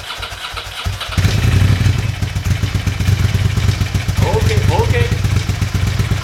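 A Ducati Monster 750 motorcycle engine catches after a brief attempt and runs with a loud, steady, rough mid-pitched idle close by, as a voice speaks briefly over it.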